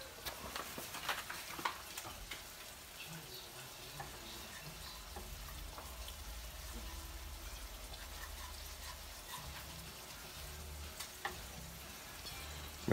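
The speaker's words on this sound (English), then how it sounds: "We're just gonna stir this around and make a roux." Flour stirred into hot oil in a pan for a roux sizzles in a steady, quiet fry, with faint scraping of the spoon throughout and no talking.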